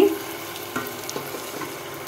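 Hot spices sizzle in a pan as sour yogurt goes in, with a few soft scrapes and taps of stirring.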